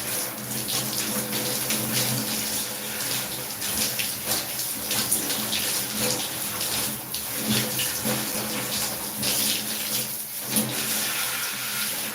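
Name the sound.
water running while rinsing off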